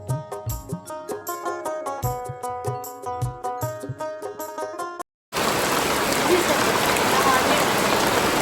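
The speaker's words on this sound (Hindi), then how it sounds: "बीच में बारिश बंद हो गई थी लेकिन धीरे धीरे फिर से शुरू हो गई है" A few seconds of plucked string music stop abruptly, then dense, steady heavy rain hisses down in a village by day, a continuous wash of drops close by.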